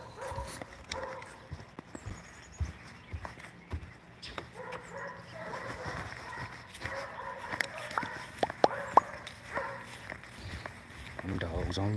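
Dogs on a suburban homestead give scattered barks and whimpers at a moderate distance, with brief sharp yips toward the end and rustling and handling noises around them.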